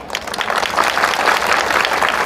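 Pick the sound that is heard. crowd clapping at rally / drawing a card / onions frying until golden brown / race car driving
crowd clapping at rally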